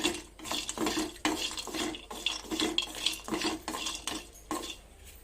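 Whole spices, including cinnamon sticks, are dry-roasted in a pan on low flame, rattling and scraping with repeated stirring strokes, close and fairly quiet.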